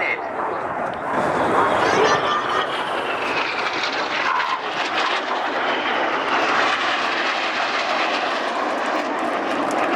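Red Arrows display jets roar over the Cosford airshow in 2013, a loud, continuous broadband rush of engine noise that holds steady for the whole stretch.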